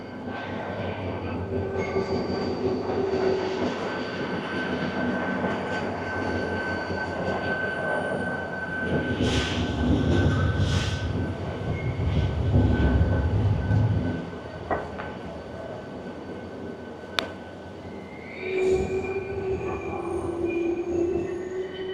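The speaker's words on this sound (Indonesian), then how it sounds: "Kayaknya itu dia keretanya udah datang tuh." The HZPP 1880 Dalmacija night train pulls into a Zagreb station platform with a long rolling rumble and high, sustained wheel squeals that rise and fade, plus a few sharp clanks, heard from the platform.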